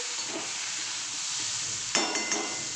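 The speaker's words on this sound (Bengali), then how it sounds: "এই যে আলুগুলো একটু ভেজে নেব" Potatoes frying in oil give a close, continuous sizzle, with a brief louder burst of crackling near the end as they are stirred.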